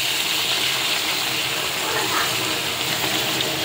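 Water gushes steadily and loudly into a pot of curry on the stove, a continuous close pour with no pauses.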